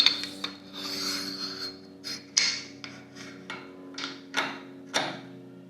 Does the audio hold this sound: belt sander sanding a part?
yes